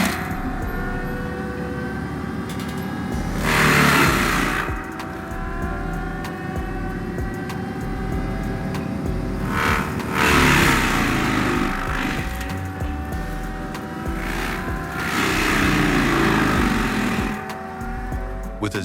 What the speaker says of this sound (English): Shearex HM70 SR with its carbide teeth demolishes it with ease.